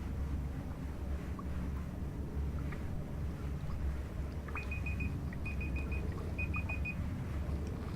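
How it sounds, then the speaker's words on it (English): A beeping alarm set as a meal reminder sounds three times as short bursts of rapid high beeps, fairly faint above a constant low rumbling hum and wind-like noise, no speech. "That was a alarm I set to me to see when I can actually have something to eat."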